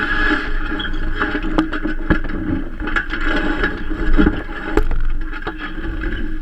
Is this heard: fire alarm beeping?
no